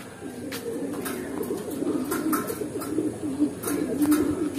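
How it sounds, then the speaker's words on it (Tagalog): Pigeons coo in a loft, a close, repeated throaty rolling coo with short wingbeat-like flutters and faint chirps, steady over a soft background hum. "Ang ating ibon na si Mr. Popo."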